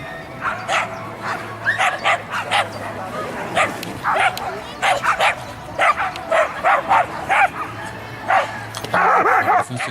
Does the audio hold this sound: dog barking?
yes